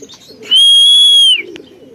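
A racing pigeon arriving at the loft gives one clear, loud, sustained tonal call lasting under a second, close to the listener, with faint rustling before and after.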